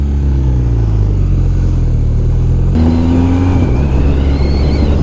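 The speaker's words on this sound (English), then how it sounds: "this is my test ride of the BMW R1250R" A BMW R1250R motorcycle is ridden on the road with a loud, close engine drone that shifts pitch partway through as it changes gear, under heavy wind rush.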